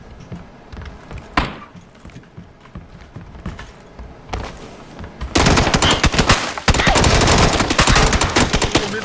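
Rapid gunfire from a shooter video game, starting as scattered shots and bursts and then breaking into loud, dense, sustained automatic fire over the second half.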